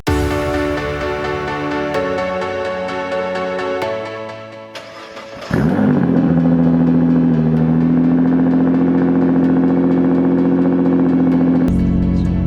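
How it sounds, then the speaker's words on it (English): A tuned Nissan R35 GTR cold-starts partway through. After a quieter, tonal stretch, the engine fires with a sharp loud catch and settles into a loud, steady, droning high idle close by. "But this is what it sounds like on cold start. It's a bit loud, isn't it?"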